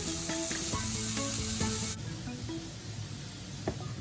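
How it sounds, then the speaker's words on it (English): Garlic, green chilies, spring onion and chopped yellow and green capsicum sautéing in a pan, a steady close sizzle with clinks of utensils and stirring, louder at first then settling into a quieter frying hiss. "Saute in the garlic and green chilies."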